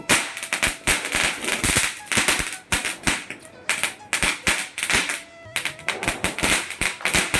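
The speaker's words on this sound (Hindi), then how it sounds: "और फिर घर पर शुरू हुआ पटाखे चलाने का प्रोग्राम" Sharp firecracker bangs pop in quick irregular bursts, loud and close, some crackling in rapid clusters, with brief voices in between.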